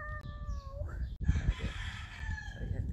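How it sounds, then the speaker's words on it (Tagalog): Neighbours' roosters crowing at morning: one long cock-a-doodle-doo, then a second crow close behind, heard at moderate distance over low background noise and some clucking. "Narinig kong mga titilaok ang mga manok"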